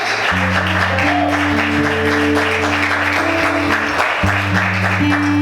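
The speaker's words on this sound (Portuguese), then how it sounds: "Você pode glorificar e aplaudir a Ele nessa noite, em nome de Jesus." A church congregation applauds steadily for several seconds, the dense clapping layered over sustained keyboard or organ chords in a worship service.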